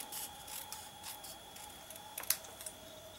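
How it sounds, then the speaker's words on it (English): Scissors snip through cardstock while a paper craft is hand trimmed: a few quiet, crisp cuts and small clicks against a low background hum. "I'm just going to snip this"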